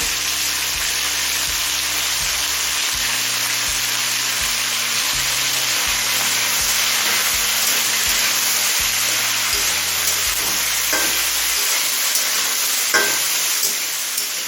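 Potato, carrot and beetroot frying in oil heated on high flame in a pan, a loud continuous sizzle held throughout, with low steady hum under it and a few clinks near the end.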